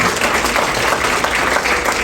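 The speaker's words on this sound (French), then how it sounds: "Je vous demande d'applaudir le génie qui se trouve entre ces" Wedding guests applaud together in a steady, dense wash of clapping that fills the whole stretch without pause.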